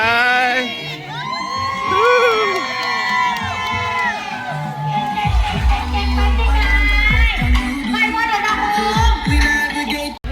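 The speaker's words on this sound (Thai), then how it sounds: "ม้วนมากครับกองเชียร์" A large crowd of spectators cheers runners at the Vientiane International Half Marathon in Laos, with loud sustained shouting, whoops and children's yells. Nearby voices call out over the din.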